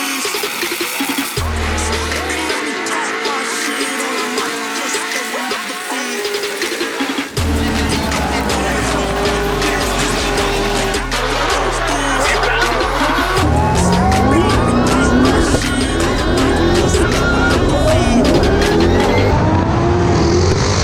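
A race car on a practice run at a drift event, its engine revving hard and rising and falling in pitch, with tire squeal and skidding layered over a loud, continuous roar close to the car.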